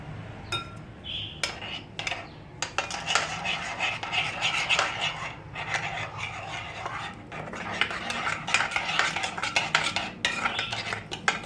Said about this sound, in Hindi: और हमें चीनी डालनी है और इसको मिक्स करना है।